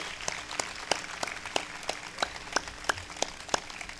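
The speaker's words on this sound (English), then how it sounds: "if you want to clap for our veterans, I'm sure you've done it, but let's do it again" Audience at a 912 Project gathering in Quincy claps for veterans, a fairly faint, moderately paced run of distinct handclaps over a soft background of crowd applause.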